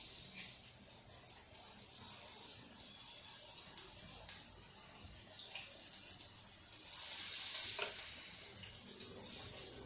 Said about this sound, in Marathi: आणि आता मी या कढईमध्ये एक एक तुकडा टाकून तळून घेणार आहे.